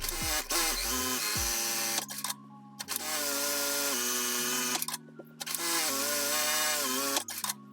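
A Juki sewing machine running in long motorized stretches, a steady whirring drone that pauses briefly and restarts several times, close and fairly loud with no talking.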